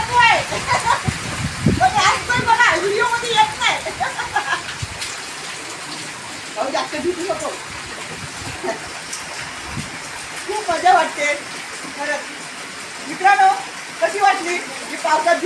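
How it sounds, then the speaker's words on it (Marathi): Monsoon rain pours steadily over Meghi, a Konkan village, as a broad, continuous wash with splashy spatter, while voices talk over it throughout. "या आमच्या मेघी गावामध्ये पाऊस पडतोय"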